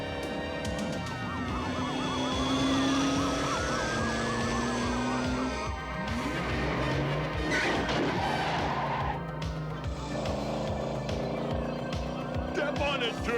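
Police car siren in an animated cartoon chase, a wailing siren sweeping up and down over engine noise and busy action effects, fairly loud and continuous throughout.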